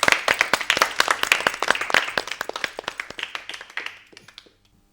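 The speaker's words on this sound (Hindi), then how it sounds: "जोरदार तालियां अर्जुन" Sparse applause from a small group of children for the winning Arjun team at a Gita shloka antakshari session; distinct individual claps in a loose rhythm, close and crisp, thinning out and stopping near the end.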